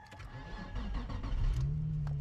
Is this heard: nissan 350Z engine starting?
yes